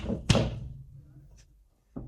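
A door shuts with a loud slam near the start, followed by quieter fading thuds and a second softer knock near the end, with no voices over it.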